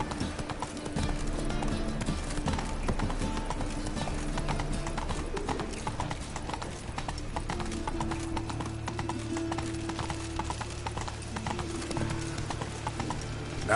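Hooves pound in a fast, continuous clip-clop as Roach, the horse in The Witcher 3 video game, gallops, backed by a sustained musical score with low held tones, steady and moderately loud throughout.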